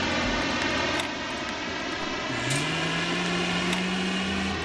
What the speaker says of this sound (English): Like, it sounds like a jet taking off.